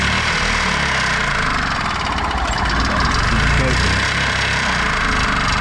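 An old, worn-out golf cart engine fitted with a cheap carburetor runs close and loud, a steady rough mechanical drone with a slight rise in intensity partway through.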